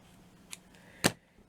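Small craft scissors snip through ribbon cut to length for a Victorian mini flower bud, giving one faint click and then a single louder, crisp cut close by in an otherwise quiet room.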